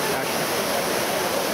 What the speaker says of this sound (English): we're at the Trevi Fountain, which is at the very terminus of the Aqueduct Vergine